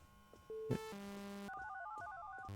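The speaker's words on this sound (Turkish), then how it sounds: "Telefon çalıyor." A telephone in a horror video game rings with a faint electronic tone, repeating short warbling notes, heard alone with no talk.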